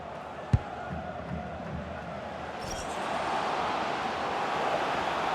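A football stadium crowd at a Portugal versus Spain round of 16 match keeps up a broad, steady roar that swells slightly toward the end, with a sharp thump early on.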